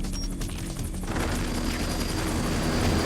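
Helicopter in the video game Metal Gear Solid: The Twin Snakes, a loud steady rotor roar with gunfire-like bursts that thickens into a dense, continuous wash after the first second, no talking.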